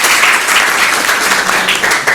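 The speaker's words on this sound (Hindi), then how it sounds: "ये जोरदार तालियां हैं।" Loud, dense applause from a room of students at a school interaction session at Nagaji Saraswati Vidyamandir, Maldepur, Ballia, a steady wash of many hands clapping at once, close and continuous for about two seconds without pauses.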